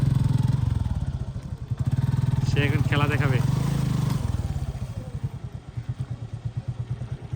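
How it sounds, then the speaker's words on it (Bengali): A motorcycle is ridden into seawater, its engine thudding in a loud, rapid pulsing rumble close by that slows into distinct chugging beats near the end, with someone speaking over the middle. "ও সে বাইকটাকে পানিতে নিয়ে এসেছে"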